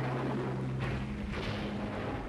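A storm in The Sims: a steady, full roar of wind and rain with low rumbling underneath and a couple of swelling gusts, loud and continuous throughout.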